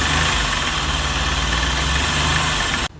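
A used car offered for sale in fresh engine condition idles steadily, a continuous low rumble with a mid-range hum that holds nearly level for close to three seconds, then cuts off abruptly.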